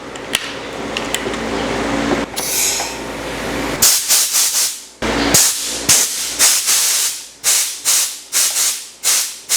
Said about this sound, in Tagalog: This is called a air duster.